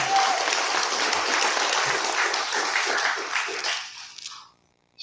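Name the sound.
audience applause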